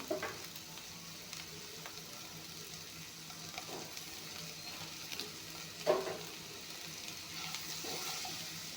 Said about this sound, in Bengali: অলপমান ভাজি ল'ম